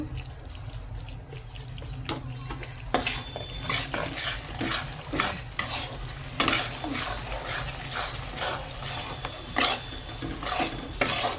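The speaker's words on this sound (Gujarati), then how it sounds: "ધીમા ગેસે કરવાનું બધું એટલે આપણને સરસ હલાવતા ફાવે લોટનો માવ બે મિક્સ થઈ જવા લેવાના" Roasted flour and mava stirred in ghee in a pan over low heat for Gujarati adadiya pak, with a close, continuous hiss and repeated rhythmic scraping strokes, loud and without talk.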